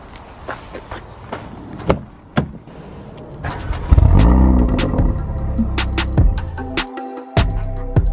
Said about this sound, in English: So let's jump in the A45, let's go for a drive.